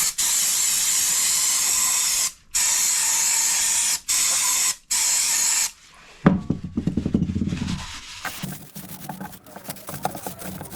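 Aerosol parts cleaner blasted in several long, loud hissing bursts into a cylinder head around the valve stems during valve grinding, followed by dripping, rattling and scraping handling noises.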